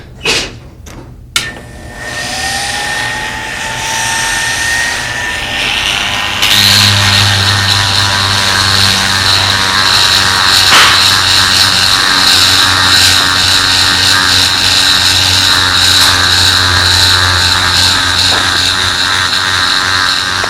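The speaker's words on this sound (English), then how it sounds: "handheld Dremel tool will work just fine" A handheld Dremel rotary tool polishing a pistol feed ramp on a workbench: a few knocks and handling clatter, then a steady high motor whine with grinding contact noise running continuously.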